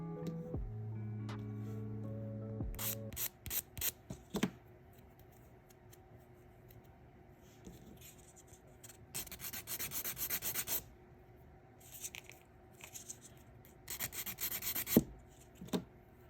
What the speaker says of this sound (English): When you're filing the nails that have the butterflies, be careful